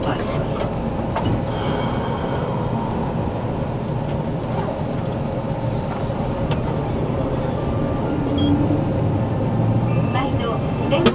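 A Kumamoto city tram, a vintage streetcar in service since 1951, pulls away with steady rolling rumble, clattering wheels and squeals on the rails, a continuous near ride noise with passengers talking faintly underneath.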